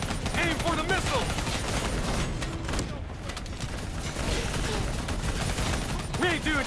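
Gunfire in a Call of Duty: Black Ops III battle against an APC and a VTOL, rapid rattling bursts and mechanical clatter that keep up throughout at moderate loudness, with radio-style voices talking over the shooting.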